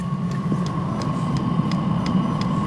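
A diesel parking heater running uncovered gives a steady mechanical hum with a constant midrange tone, broken by faint, evenly spaced ticks roughly every fifth of a second, close by and running alone.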